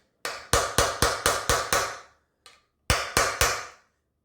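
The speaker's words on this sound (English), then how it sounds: "again, the brass hammer. And we're just going to tap down." A brass hammer taps a socket down into a Les Paul guitar kit's bridge post hole: a quick run of seven ringing metallic strikes, a faint one, then three more, close and loud.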